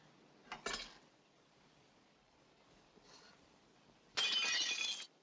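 Glass shatters in a quiet room in a 1945 gothic film noir: a sharp crash with tinkling fragments near the start, a faint rattle midway, then a louder, sustained burst of breaking glass near the end.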